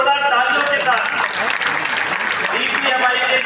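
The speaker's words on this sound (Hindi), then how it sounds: "एक बार जोरदार तालियों के साथ" Crowd clapping rings out at a ceremony honouring teachers with the Chief Minister present, a moderately loud, even applause with a voice speaking over it at the start and end.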